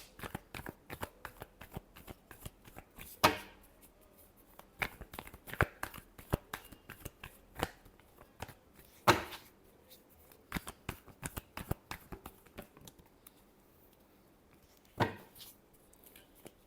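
Tarot cards are shuffled by hand in a quiet room, a long run of quick papery flicks and riffles broken by a few louder slaps as the deck is squared.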